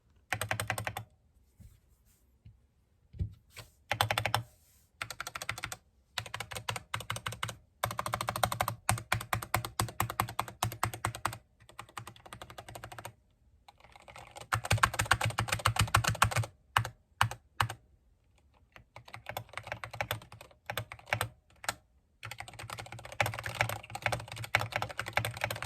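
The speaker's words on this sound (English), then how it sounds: "This next clip is just a quick sound test of everything that I'd done up to that point." Typing on a Keychron K6 mechanical keyboard with lubed Red switches and foam modding makes steady, close, muted clacking in fast runs with brief pauses, alone without voices.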